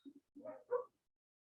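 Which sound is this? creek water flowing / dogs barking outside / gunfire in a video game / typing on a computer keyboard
dogs barking outside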